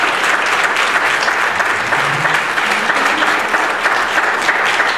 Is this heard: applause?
yes